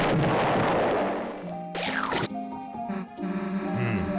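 A cartoonish explosion effect from the Deltarune Chapter 2 video game bursts out sharply mid-clip as a brief loud blast over game music and sound effects.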